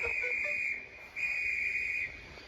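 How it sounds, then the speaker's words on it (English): Train conductor's whistle, a shrill steady tone blown in two long blasts with a short break between, fairly faint against a quiet background, no talk. "The conductor blew his whistle till he had no more breath"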